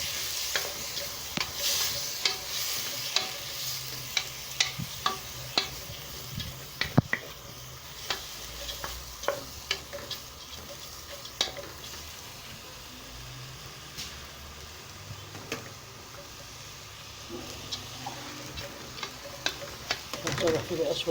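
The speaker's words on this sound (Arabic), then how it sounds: "حطينا شوية الكمون والعدس اهو عليها اهو. ونشوحها كويس برضو كده." Cumin and lentils being sautéed in a pan for Egyptian koshari: a soft, steady sizzle under repeated scraping and stirring clicks of a spoon against the pan, fairly quiet and close.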